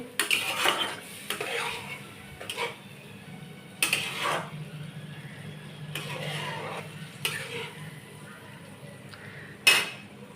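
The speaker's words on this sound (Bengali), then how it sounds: "দিয়ে আমি এটাকে একটু ভালো করে নেড়ে নেব" Egg posto being stirred in a metal pan, a spoon scraping and clinking in several distinct strokes over a soft background hum, with no talking.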